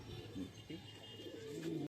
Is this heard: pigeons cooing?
yes